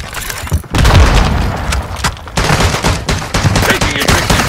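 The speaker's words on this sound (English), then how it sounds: "Taking aggressive fire." Heavy gunfire in a squad-based military shooter video game, loud bursts and booming shots rolling almost continuously with brief lulls, dense and close throughout.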